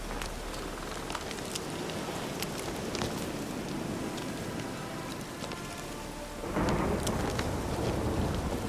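Heavy rain pours continuously in The Witcher 3: Wild Hunt game world, a dense hissing wash with low thunder rumbling beneath, swelling louder near the end.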